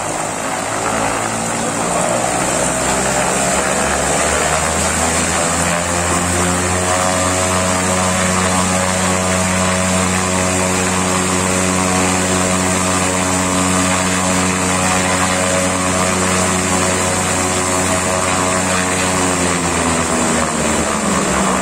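An electric aircraft motor for small aviation drives a propeller on a test stand, run at 280 volts. It makes a loud, continuous whirring drone whose pitch rises and then holds steady at full speed for the whole stretch.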